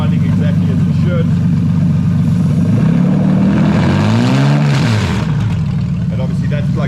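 A Toyota 2JZ-GTE VVT-i engine, fitted to a Toyota Soarer with an ECUMaster Black ECU, idles steadily with a deep, loud, continuous hum. Its pitch briefly dips and rises midway through.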